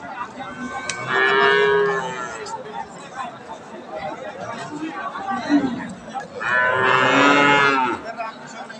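A Holstein Friesian heifer with newly emerging horns, on a farm in Saidpur, lets out two long, loud, close moos, one early and one late, while people chatter in the background.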